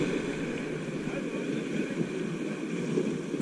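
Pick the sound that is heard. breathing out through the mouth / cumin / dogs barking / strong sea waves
strong sea waves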